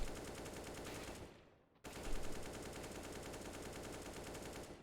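Rapid automatic gunfire rattles continuously while aim training in a first-person shooter game, a dense machine-gun spray that briefly stops around the second mark, then resumes steadily at constant volume with no talking.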